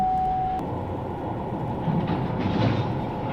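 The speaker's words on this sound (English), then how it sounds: "the second train is moving out" A train rumbles past steadily with a low, continuous roar, growing slightly louder toward the end; no voices.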